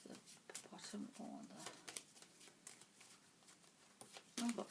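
A deck of cards is shuffled in a quiet indoor room, giving soft, brief riffling bursts that are partly covered by a person talking.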